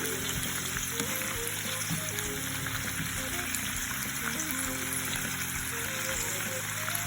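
Chicken pieces sizzle steadily in a pan for a Cuban pollo con papas, a continuous close frying hiss with small pops and stirring scrapes, with no voices.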